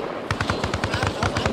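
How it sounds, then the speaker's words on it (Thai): Distant automatic gunfire in an ARMA-style military shooter game rattles off in a quick, evenly spaced burst of about a dozen muffled shots, without talking. "เสียงปืนมันไกลเสียงปืนไกลไม่ได้อยู่หน้าเราอยู่ไกลประมาณกิโลนึงอ่ะ"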